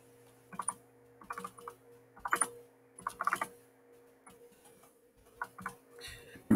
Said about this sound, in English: you will need to finish this by typing in these others